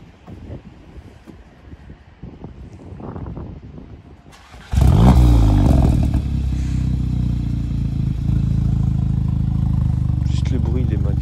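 Volkswagen Golf 7 GTI Clubsport engine, modified with a changed exhaust line, cranks and fires loudly about halfway through, then settles into a steady, throaty idle with slight rises in revs, after people chatting nearby.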